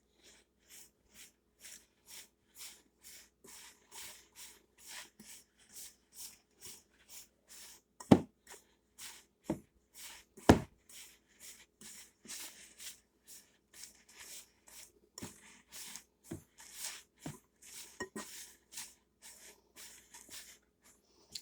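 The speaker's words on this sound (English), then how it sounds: "I softened the butter this time, so I'm gonna try to just do it with my fork" Softened butter mashed with a fork in a bowl for sugar cookies, heard as a steady run of close, soft scraping taps that come roughly one or two per second and grow a little denser and louder toward the end.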